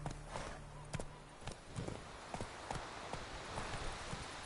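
Roach the horse galloping in The Witcher 3, a fast, even run of hoofbeats under a low ambient bed, with no talk.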